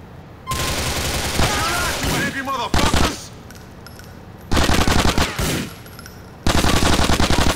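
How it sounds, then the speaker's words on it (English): Rapid automatic gunfire from a weapon in Grand Theft Auto 4 comes in three long, loud bursts separated by short pauses, with game sounds between them. "This is a nice gun. I like this gun."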